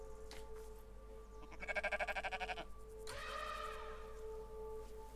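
A sheep bleating in the survival game Rising World, two drawn-out wavering bleats at moderate distance over a steady ambient hum.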